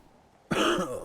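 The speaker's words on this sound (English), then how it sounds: "cough got picked up, but I'm sure it did." A single sharp cough bursts out after a quiet moment, close and loud, with a brief raspy tail.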